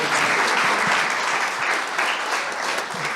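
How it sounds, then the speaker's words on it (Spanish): Steady applause from a church congregation during a talk on family and marriage ideas, a dense, continuous wash of clapping that holds at full strength and eases slightly toward the end. "Se puede aplaudir, hermano"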